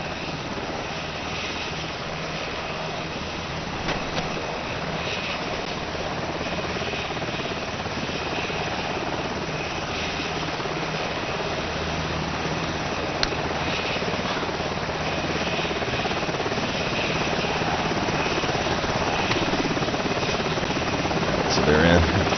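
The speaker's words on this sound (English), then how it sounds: "so let's get out on this helo here" Helicopter from the combat game ARMA 2 flying steadily with a loud, continuous rotor and engine drone, with a few faint clicks and a slight swell near the end.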